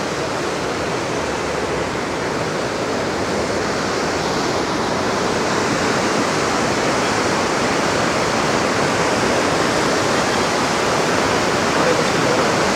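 A loud, continuous roar of the flooded Beas River after a cloudburst near Kullu-Manali fills the whole clip, steady and broadband like a raging torrent close by.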